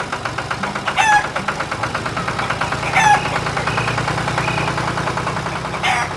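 A startled farm chicken squawks sharply in a few brief bursts, spaced a couple of seconds apart, over the loud, steady rumble of a nearby engine.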